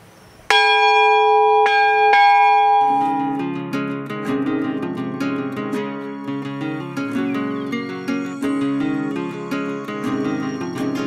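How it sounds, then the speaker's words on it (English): A bell on a monument in Spring Grove Cemetery in Cincinnati, Ohio, is struck several times, loud and close, its bright ringing tones layering into a sustained, shimmering resonance with repeated strikes throughout. "we're gonna ring the bell for the Gettler"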